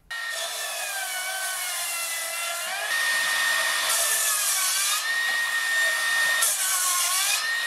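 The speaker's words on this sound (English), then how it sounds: "This thing will cut through 104mm of timber." A Makita 40V cordless 270mm circular saw rips through thick timber such as a fence post, its loud, steady whine holding throughout with slight pitch dips as the blade loads in the cut.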